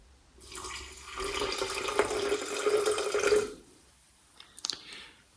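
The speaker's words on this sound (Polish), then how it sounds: "Wlewam 170 gramów albo mililitrów, bo to jest to samo, wody do startera, który już mamy." Water pours steadily into a rye sourdough starter for about three seconds, then stops, followed by a few faint clinks and knocks.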